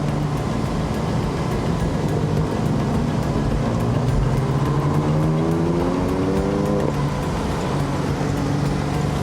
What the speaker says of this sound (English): Second gear. I'm pushing this Beamer.